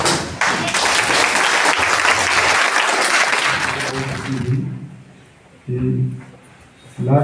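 A college audience at a law-college NSS camp event in Bareilly claps in a loud, dense standing ovation for several seconds before it fades out, followed by a voice speaking.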